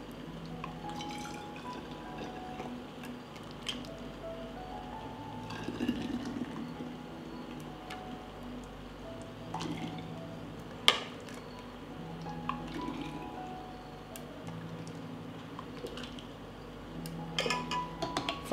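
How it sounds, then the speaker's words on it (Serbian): Homemade juice is poured from a pot into clean, sterilized glass bottles, with quiet trickling and dripping broken by scattered small clinks and taps of glass and utensils. "Sok je gotov i sipat ću ga u čiste i sterilisane flaše."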